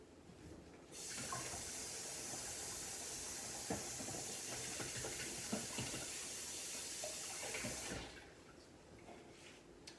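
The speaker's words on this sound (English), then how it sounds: "Let me wash my hands, y'all." A kitchen faucet runs for about seven seconds while hands are washed at the sink, a steady close hiss of water with small splashes, switching on and off cleanly.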